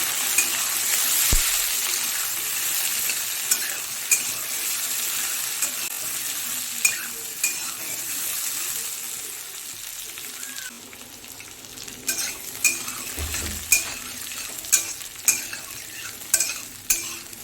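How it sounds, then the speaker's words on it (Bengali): Potatoes and papaya fry in a pan with a steady sizzle while a spoon scrapes and stirs, the metal clinks growing sharper and more regular toward the end. "দিয়ে একটু ভালো করে ভেজে নেবো একসঙ্গে।"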